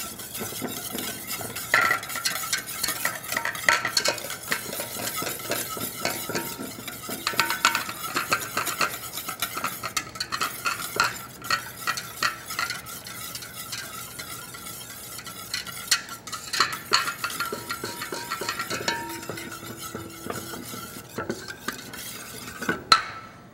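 Canola oil vinaigrette for a smoked potato salad is stirred in a bowl, producing rapid, persistent clinks and scrapes of utensil against the bowl for over twenty seconds, close and fairly loud.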